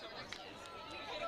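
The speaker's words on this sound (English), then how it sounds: "Loud crowd here tonight in Austin." A loud crowd cheers and chatters at an evening ultimate frisbee game in Austin, Texas, a steady wash of hubbub and voices with a few brief swells.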